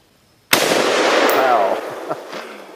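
A single loud close gunshot from an FN FS2000 rifle firing .223/5.56 ammunition, a sharp crack followed by a long outdoor echo and decaying rumble, with a faint metallic clink afterward.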